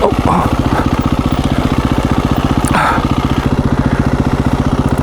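A KTM 350 EXC-F dirt bike engine chugs at low revs while being ridden slowly over rocky, loose terrain on a dual-sport ride, a steady loud pulsing throb filling the whole clip with a brief surge in the middle.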